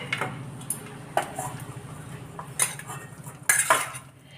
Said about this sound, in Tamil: இப்போ நம்ம வந்து சாதத்தை போட்டு பிசைஞ்சிருவோம்.